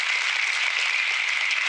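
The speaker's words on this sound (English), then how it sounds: "Can we get a round of applause?" Conference attendees at Heart of Clojure 2024 clap for the organizers in a brief, steady burst of applause from a room audience, with no talk over it.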